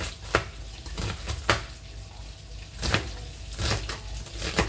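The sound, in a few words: knife dicing an onion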